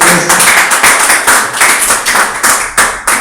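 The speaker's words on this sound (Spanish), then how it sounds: "Denle un aplauso al Señor por eso." A church congregation gives applause to the Lord, a loud, close burst of many hands clapping that swells in repeated waves and keeps going without talk.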